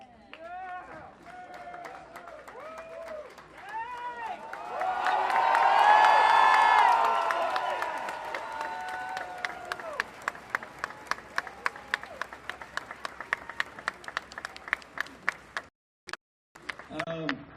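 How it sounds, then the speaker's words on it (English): Crowd at an outdoor vigil for mass shooting victims in Dayton, Ohio swells into loud cheering and applause mid-clip, fading back to scattered claps, shouts and murmuring voices, with a brief silence near the end. "I want you to cheer for them"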